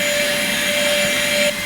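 A vacuum cleaner sucks dust out of a piano, giving a loud, steady close-up roar with a constant whine throughout that drops slightly near the end.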